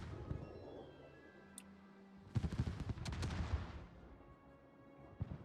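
A naval gun salvo from the Bungo, a warship in a naval combat video game: a loud burst of several booming blasts in quick succession, followed by a rumbling tail. Softer game noise sits before it, with no talk.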